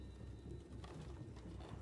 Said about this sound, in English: More birds.